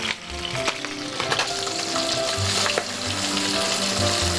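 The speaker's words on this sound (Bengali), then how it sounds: "আমি একটু নুন দিয়ে দিই তেলের মধ্যে।" Salt tossed into hot oil sizzles loudly and steadily on a kitchen stove, a dense continuous crackle with scattered sharper pops, close and unbroken for several seconds.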